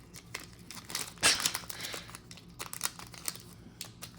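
A 1992 trading card pack wrapper is pulled and torn open up close, with bursts of crinkling and tearing plastic, one sharp rip early on, then intermittent rustles.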